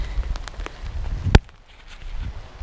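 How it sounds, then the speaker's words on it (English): Big, heavy raindrops patter irregularly on the Pacific Crest Trail in Lassen Volcanic National Park, with one sharp, close splat standing out among softer scattered hits before the sound fades to a quiet drizzle. "Big fat drops of rain."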